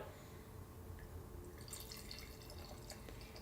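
Avery's Coconut Porter, a bourbon-barrel beer, being poured from the bottle into a glass, a steady close liquid splash and trickle running continuously with no talk.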